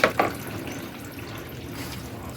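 Water flows from a tap into a bathtub being filled to bathe a French bulldog, with a couple of splashy bursts at the start and then a steady, close rushing stream.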